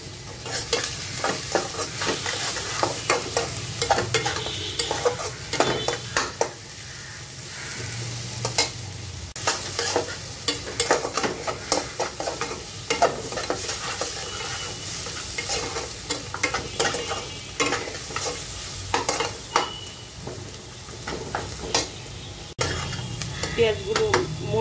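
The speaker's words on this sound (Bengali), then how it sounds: "পেঁয়াজগুলো মোটামুটি ভাজা হয়ে গিয়েছে" Onions sizzling with salt in a pan for a pigeon meat bhuna, with frequent stirring scrapes and clatter against the pan over a steady fry; a voice speaks at times.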